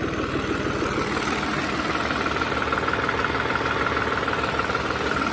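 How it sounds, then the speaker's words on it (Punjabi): A 3630 tractor engine runs steadily close by in farm fields, a constant low chugging idle with no pauses or voices. "ਦੇਖੋ ਮਾਰੀ ਜਾਂਦਾ ਟਰੈਕਟਰ"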